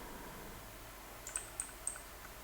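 A few quiet keystrokes tap on a computer keyboard as a web address is typed into a browser, three light clicks in quick succession over a soft steady room hum.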